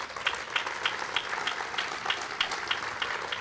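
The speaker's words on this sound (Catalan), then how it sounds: "un aplaudiment per a ella" A political rally crowd applauds for a provincial council vice-president with a moderate wash of clapping that pulses into steady rhythmic bursts, fairly close and not loud, with no talk over it.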